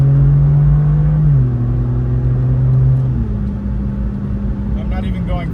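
The engine of an AC Schnitzer BMW M2 on a cold Nurburgring lap, a loud close cabin drone that steps down in pitch at shifts and then climbs again, with someone talking over it.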